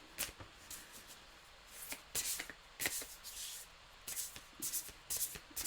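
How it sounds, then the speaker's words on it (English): Tarot or oracle cards are shuffled up close in quick, crisp riffling bursts separated by short pauses, soft and alone with no talk. "That was me thinking I was tarot shuffling."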